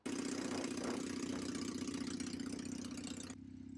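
A motorcycle with a custom exhaust idles steadily, giving a continuous low, even burble that stays close and constant throughout, with no talking.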